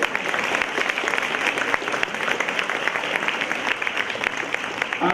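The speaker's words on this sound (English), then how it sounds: "Give yourself a round of applause." An audience at a university education and health awareness event gives a round of applause, with steady dense clapping that holds at a constant level for several seconds and has no voices over it.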